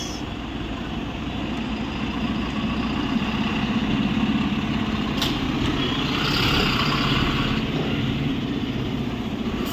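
An omni bus engine idling at the Coimbatore omni bus stand, a steady loud low diesel rumble with a faint high whine and no break throughout.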